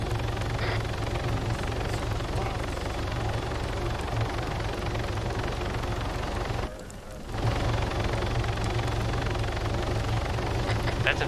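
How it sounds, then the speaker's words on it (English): Helicopter in the military game Arma 3 being brought in to park beside another helicopter: a steady, loud rotor and turbine drone runs throughout, with a brief dip in level about two-thirds through. "Now park next to the other helicopter."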